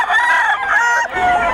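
A gamefowl rooster crows loudly and close by, one strained harsh call of just over a second, with a short break before its trailing final note.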